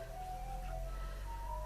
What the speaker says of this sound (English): I apologise if you can hear the ice cream van in the background there.